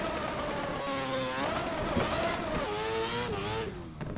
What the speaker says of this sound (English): Oh, this car's already loud.